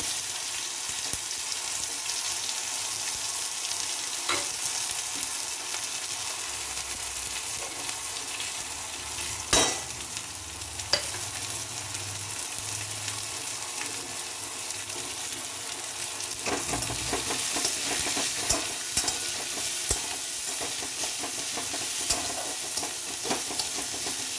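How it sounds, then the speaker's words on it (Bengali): Onions sizzling in hot oil with bay leaf in a pan for a soybean and cauliflower curry, a steady moderate frying hiss with occasional stirring scrapes and clatters from a spatula. "এবারে আমি পেঁয়াজগুলো ছাড়ছি।"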